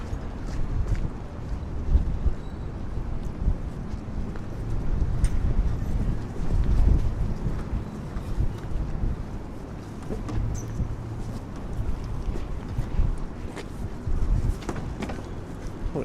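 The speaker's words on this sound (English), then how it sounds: "It's getting windy" Wind buffeting a chest-mounted camera microphone on a Toronto morning commute from Midtown to Downtown, a low rumbling roar that swells and fades continuously, with faint street noise behind it.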